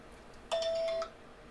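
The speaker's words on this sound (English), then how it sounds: "so that was actually the 10 o'clock opening bell." A stock market opening bell rings at 10 o'clock: a single sustained electronic bell tone, loud and steady for about half a second, then it cuts off into quiet room noise.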